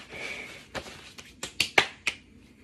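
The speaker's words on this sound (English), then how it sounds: "I like doing clap push-ups to level it up a little bit" Sharp hand claps from clap push-ups, about five crisp smacks at an uneven pace, each with a soft thud of the body between them, close and fairly quiet.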